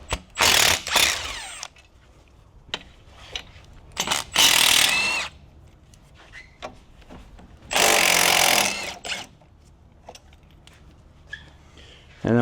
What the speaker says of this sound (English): I'm going to undo these 12s that hold the caliper lines on